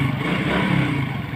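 A Suzuki Raider motorcycle with a hard-starting problem idles roughly on a cold morning, its engine note steady and close before it dies out.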